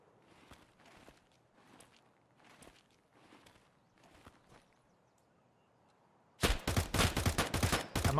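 Full-auto gunfire in Escape from Tarkov, a loud rapid burst that breaks out after several seconds of quieter footsteps and movement, no talking.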